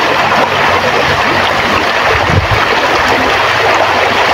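Water rushes and churns steadily up close in a river during bathing, with a loud, continuous broadband wash, a few low splashy thumps and wind buffeting the microphone throughout.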